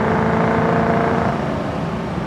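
A 1967 Ford Mustang K-code with its high-performance engine running, giving a steady, loud, continuous rumble throughout with no one talking.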